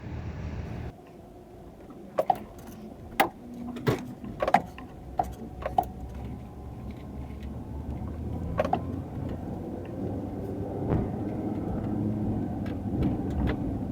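A car drives to the grocery store: steady low road and engine rumble fills the interior throughout, with several sharp clicks and knocks in the first seconds and a thud near the end.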